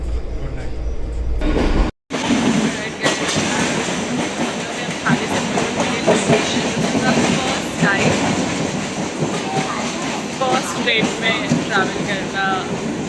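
Inside a moving passenger train in Goa on an early-morning run, a steady rumbling roar fills the carriage with rhythmic clickety-clack of wheels over rail joints, and voices talk over it.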